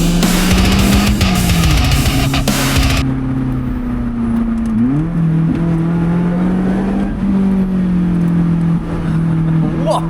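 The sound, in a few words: Lotus Elise sports car driving in a convoy through Austria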